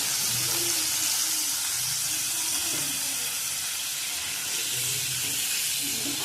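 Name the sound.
paneer frying in oil in a pan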